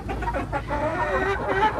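A large Sussex rooster and hens on a farm coop cluck in short, close, repeated calls, a few soft bursts over a brief moment.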